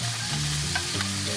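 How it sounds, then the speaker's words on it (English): Scallops caramelizing in a hot restaurant pan, a steady close sizzle and crackle of frying with faint clinks of cookware, no talking. "Listen to that sizzle."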